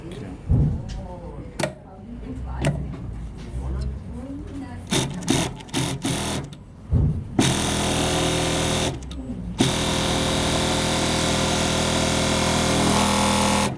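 A Megasew flatlock sewing machine stitches a seam: first a few short stop-start bursts mixed with handling noise and a voice, then a loud continuous whirring run, briefly interrupted, before resuming steadily to the end.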